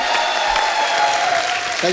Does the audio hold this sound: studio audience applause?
yes